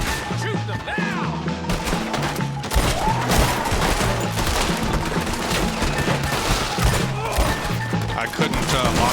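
Heavy gunfire during a shootout in the video game Red Dead Redemption 2: dense, loud volleys of shots and crashing impacts over a rhythmic music bed, with shouting voices mixed in.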